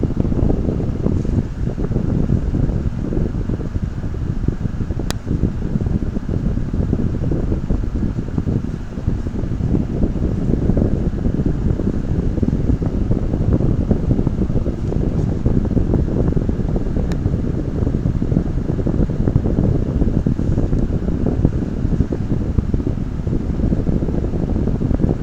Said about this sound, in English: I'm going to turn the fan off because the paint's drying too fast now